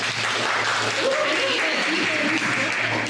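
Sustained clapping from a large Comic-Con audience in San Diego, a thick even roar of hands that carries through with some crowd voices mixed in.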